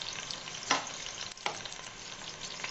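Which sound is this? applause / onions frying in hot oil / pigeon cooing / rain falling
onions frying in hot oil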